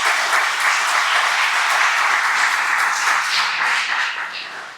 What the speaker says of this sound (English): So big round of applause for Dennis.